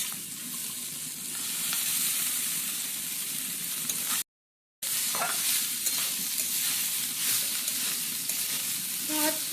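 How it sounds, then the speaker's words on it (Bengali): Rice and vegetables being stir-fried in a pan, with a steady hiss of sizzling and scraping stirring strokes, close and continuous, broken by one brief silent gap midway; no voices. "ভাত সবজি সব কিছু ভালোভাবে মিশিয়ে নেওয়া হচ্ছে।"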